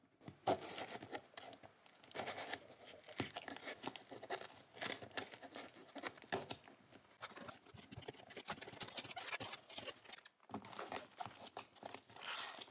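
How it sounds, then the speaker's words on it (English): A tightly packed cardboard box of small toy figures is pulled open, giving steady close crinkling, scratching and tearing of packaging with scattered sharp crackles and no talk. "So let's get this box opened."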